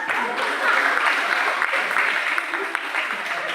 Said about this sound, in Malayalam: അപ്പൊ ടീച്ചർ ഞെട്ടിപ്പോകുമ്പോ ഇവരിപ്പോ കൈയടിക്കും